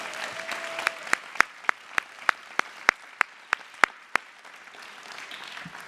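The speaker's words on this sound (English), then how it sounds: "one last round of applause for all of our 6T promotion children" Applause at a school promotion ceremony for Year 6 children: sharp, evenly spaced claps, about a dozen, stand out loudly near the microphone over a faint, hushed room background.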